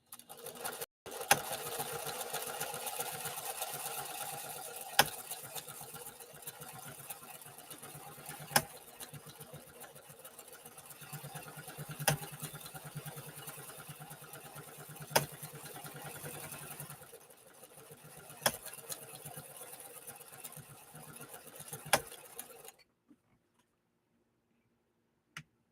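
A 1960 Pfaff 230 sewing machine runs steadily while stitching for over twenty seconds, a continuous mechanical whir with periodic sharp ticks, close and alone, then stops abruptly.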